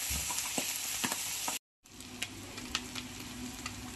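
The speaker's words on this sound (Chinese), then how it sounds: "慢慢煎小鱼啊。" Small fish fry in a pan in a rural kitchen, giving a steady loud sizzle with scattered sharp pops and clicks. The sound cuts out briefly near the middle, then resumes alone with no voices.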